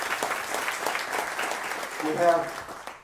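Audience applause at a ceremony for the start of DreamWeek San Antonio, a steady stretch of clapping with a voice briefly cutting through near the end.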